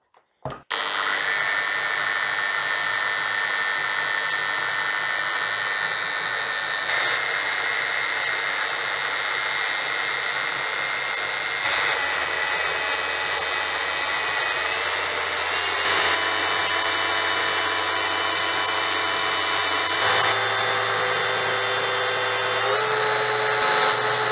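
A Bosch GET 75-150 eccentric sander runs with its eccentric locked in forced rotation mode, giving a loud, continuous high-pitched whine that shifts pitch in steps as it keeps going, with no voices.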